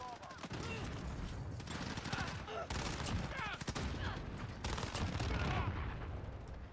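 Gunfire from a Call of Duty Modern Warfare multiplayer match, with dense rapid bursts and overlapping shots forming an almost continuous barrage, loud and sustained throughout.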